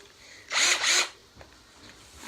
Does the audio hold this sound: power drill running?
yes